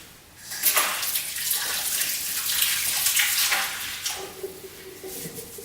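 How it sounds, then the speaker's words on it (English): Running cold tap water splashes steadily for several seconds as a sauerkraut jar is rinsed beneath it, with a brief change in the flow near the end. "So what we're going to do is first rinse it in cold water."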